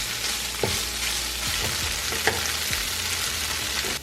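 Vegan food seasoned with paprika sizzles steadily in a pan while a utensil stirs it, giving several distinct scraping knocks spaced irregularly over a constant frying hiss, with no voices.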